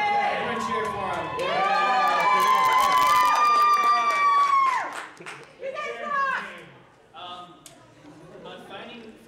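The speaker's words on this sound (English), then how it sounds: "Everyone cheer for him." A cosplay panel audience bursts into loud cheering and shouting for several seconds, then the noise fades into scattered voices and talk.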